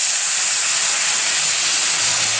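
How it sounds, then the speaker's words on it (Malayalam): Boiling water poured into a hot pan of curry gives a steady, loud broadband hiss that runs unbroken for the whole span, with no voices over it. "ഏകദേശം ഇത്രയും പോലും തിളച്ച വെള്ളം ഒഴിച്ചു കൊടുക്കുക."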